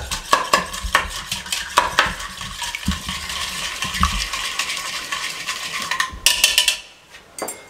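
A spoon whisks half a cup of yogurt in a bowl, producing rapid, uneven clinks and scrapes against the sides in a close, busy rhythm that stops abruptly near the end.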